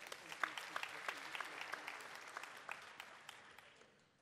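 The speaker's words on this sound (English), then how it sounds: "Let's give the leadership a good round of applause." Audience at a presiding officers' mid-year stakeholder briefing giving the leadership a round of applause, a faint, distant patter of many hands clapping steadily with a few sharper claps standing out, then tapering off.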